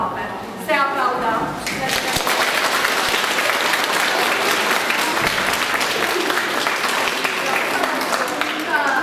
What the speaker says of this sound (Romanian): Se aplaudă!